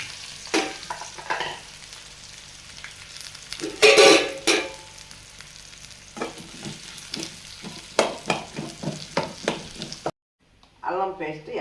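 Onions and curry leaves sizzling in hot oil in a pan, a steady close frying hiss with stirring scrapes and a few louder clatters, then briefly cutting to a softer patch.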